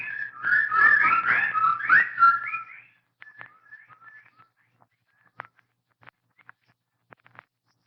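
Birds call in a radio drama of The Dunwich Horror: a loud run of warbling, whistle-like calls for about three seconds, then sparse, short chirps and clicks scattered across a quiet background.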